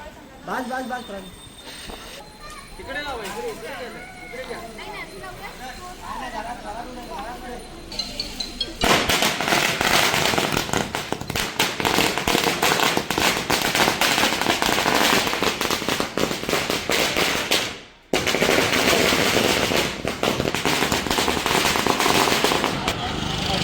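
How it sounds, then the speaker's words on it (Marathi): Firecrackers burst at a wedding celebration in Mumbai, starting with people talking and then erupting into a dense, loud, continuous crackling barrage with a brief pause near the end. "थोड्या वेळातच अगदी सेलिब्रेशन होणार आहे फटाक्यांच्या सहित"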